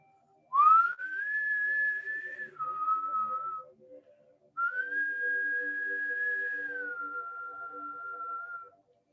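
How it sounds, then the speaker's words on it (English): A person whistles two sustained rising-then-falling tones, each held a couple of seconds before dropping slightly, with a short pause between them, clear and close as a sound effect in a spooky Halloween podcast tale. "he heard a whistling sound"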